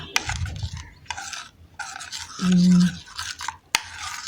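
A malta orange face pack is mixed in a bowl, giving intermittent close scraping and rubbing strokes with short pauses and a low hum partway through.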